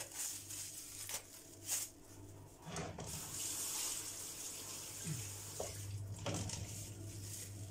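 Tap water runs steadily into a kitchen sink while something is washed by hand, a continuous close splashing hiss with occasional brief knocks and clatters, no talking.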